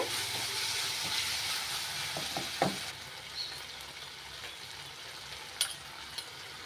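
Tomato and soy sauce being stirred into a hot pan for banana manchurian, a steady frying sizzle with a few soft scraping clinks of the spoon, close and moderately quiet, with no speech.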